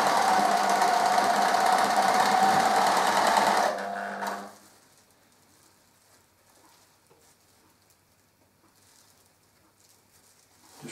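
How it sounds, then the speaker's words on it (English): Sewing machine running steadily as it stitches through several layers of fabric for a tea cosy, a loud continuous drone for about four seconds before stopping abruptly, leaving near silence. "Remember to be careful to catch all the layers of fabric when you sew."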